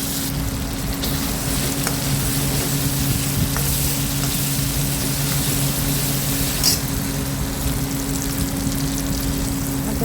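Chopped tomatoes sauté in a hot pan for dal tadka, giving a steady, close sizzle and frying hiss that runs unbroken with faint stirring scrapes.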